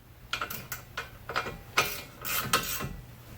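Front caliper bracket bolts on a 2001-2005 Honda Civic are tightened with a 3/8 drive ratchet, giving a series of quick, close ratcheting clicks and scrapes in short irregular bursts.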